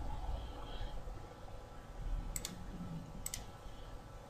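Two separate computer mouse double clicks, each a quick pair of faint, crisp clicks, over a quiet background hum.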